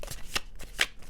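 Tarot cards are shuffled by hand in a few quick riffling bursts, close and fairly quiet, with no talk.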